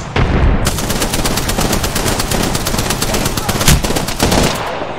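Rapid automatic gunfire from Apex Legends, loud and continuous for about five seconds with a few heavier bursts, some shots sounding close and others further off in a hectic firefight.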